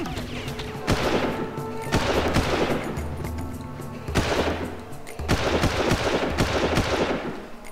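Loud bursts of automatic gunfire in the video game Far Cry, several rapid fusillades in quick succession with short pauses between, close and booming, no talking.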